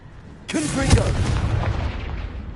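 A Confringo spell blast in Hogwarts Legacy erupts as a sudden loud explosive boom, then trails into a long rumbling decay over a faint background bed.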